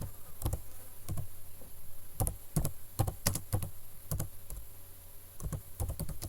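Rapid, uneven keystrokes on a computer keyboard while a Zoom meeting schedule is typed in. The crisp clicks come in short bursts and pauses over a steady low hum, with no talking.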